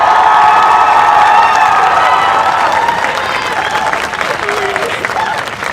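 A crowd of graduating students at a high school graduation ceremony screams, cheers and applauds loudly all at once, a dense roar that holds steady and only slightly thins toward the end.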